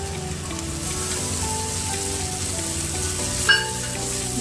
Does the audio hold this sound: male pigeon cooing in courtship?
no